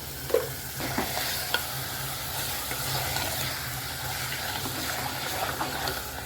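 Salted mutton is stirred as it fries in a pan, giving a dense, continuous sizzle with scraping spoon strokes and a few sharper clinks near the beginning.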